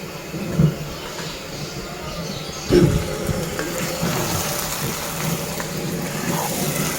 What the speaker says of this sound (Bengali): মাংসটাকে কষাই নিচ্ছি আর একটু তেল লাগবে